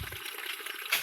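Water runs steadily from a pipe into a drum, a short continuous splashing rush that swells slightly near the end.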